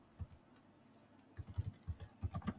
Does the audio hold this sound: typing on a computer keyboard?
yes